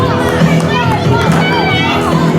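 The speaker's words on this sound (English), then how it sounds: "Chorus of boos for the pair right here." A dense wrestling crowd at an independent show roars continuously and loudly, with a steady wash of overlapping voices filling every moment and no clear pauses.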